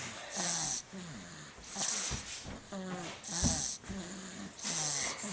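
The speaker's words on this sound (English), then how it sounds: "Snoring loud, huh? She's really loud, isn't she?" Loud, rhythmic baby snoring with snorting, wheezy breaths repeating every second or so, close by.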